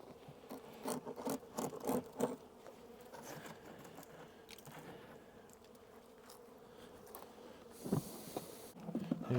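Honey bees hum faintly around an opened, lightly populated hive during spring box reversal in Kentucky, a soft continuous buzz broken by close scraping and rubbing noises of hive work.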